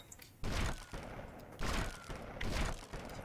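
Auto sniper rifle fire in GTA Vice City Stories, three separate booming shots spaced about a second apart, each with a short tail, faint overall with no talk.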